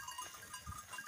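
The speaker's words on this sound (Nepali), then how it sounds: "अब यो बाख्रा चाहिँ सँगैमा यो बस्तीलाई मैले यो देखाइरहेको छु" Local goats on a farm in Nepal give faint, brief bleats against a quiet outdoor background, heard from some distance.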